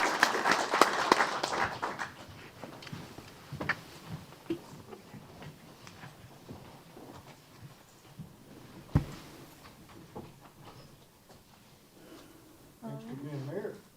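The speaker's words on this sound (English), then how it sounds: "Let's give him a round of applause." Audience applause at a city council meeting, a dense burst of clapping at the start that quickly thins out, followed by scattered claps and people talking in the room.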